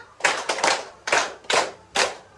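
Clapping from a classroom group at a school guidance session comes as five sharp, close bursts, with the first two quick together and the others spaced evenly, heard on their own without talk.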